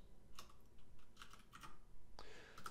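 Computer keyboard without arrow keys tapped in a few sparse, quiet clicks, with a quick cluster near the end, close and faint.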